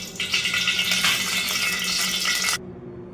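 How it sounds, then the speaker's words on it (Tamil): Cooking oil poured into a kadai for fish curry, a steady close hissing pour lasting about two and a half seconds before cutting off abruptly, with no voices. "நம்ம இப்போ கடாயில் எண்ணெய் ஊற்றிக்கலாம்."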